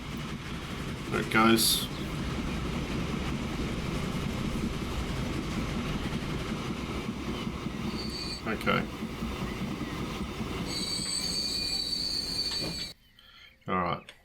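A train in the Transport Fever game rolls along its rails with a steady, continuous rumble and faint clickety-clack. A few brief clicks and a sharp beep break through near the end, and someone speaks briefly over it.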